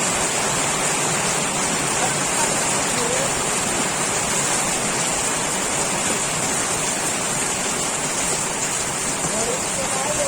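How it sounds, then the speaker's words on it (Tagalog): Steady heavy rain pouring down, a constant dense hiss with no pauses. "Narinig na po guys yung ulan."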